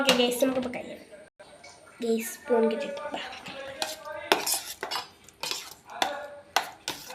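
A spoon clinks and scrapes around a bowl, stirring banana fritter batter in a home kitchen, in irregular knocks and clatters, with voices talking over the stirring.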